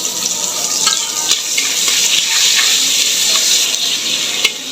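Chopped onion frying in hot oil in a wok, a loud, continuous close-up sizzle with faint clicks of stirring, no talk.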